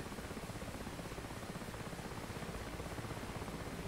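Mi-8 helicopter in the DCS flight simulator, its rotor and turbine engines giving a loud, steady thrum with a fast rhythmic blade chop throughout, unbroken and without voices.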